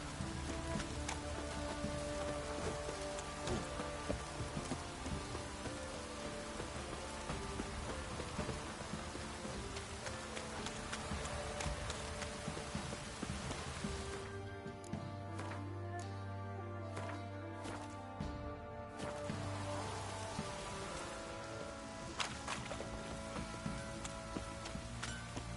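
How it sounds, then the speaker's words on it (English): Rain falls in Witcher 3, a steady hiss of drizzle with distant rumbles beneath, holding for the whole span except a brief quieter break partway through. "Oh, it's drizzling."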